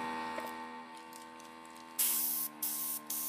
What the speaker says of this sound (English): The airbrush just helps me move inks in a way and also dries them very quickly.